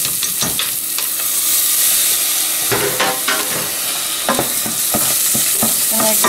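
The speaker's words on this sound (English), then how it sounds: "I'm going to give it a good stir. Start browning it." Rinsed rice browning in a hot pan while being stirred, a steady sizzle and hiss broken by repeated close scrapes and clatters of the utensil, with no voices.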